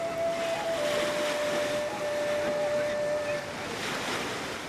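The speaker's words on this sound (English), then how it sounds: "the soothing sound of the sea never far away" Sea surf on Ireland's west coast, a steady broad wash of waves and wind with a faint sustained tone running through it, even and continuous throughout.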